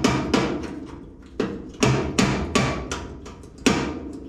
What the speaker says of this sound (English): you can just wriggle them back and forth and it will fatigue the spot weld behind it